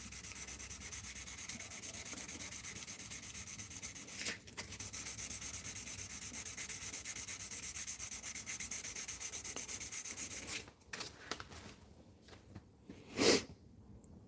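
A custom metal lockpick is sanded by hand with 1000 grit paper, a steady close hiss of rubbing strokes for about ten seconds, then a pause and a few short scrapes.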